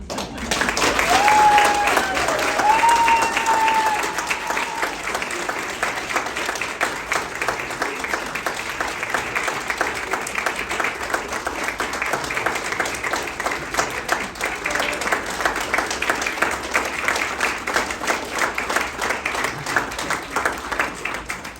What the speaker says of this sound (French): Je vous demande, mesdames, messieurs, d'applaudir, on va dire, on va croire, leur premier baiser nuptial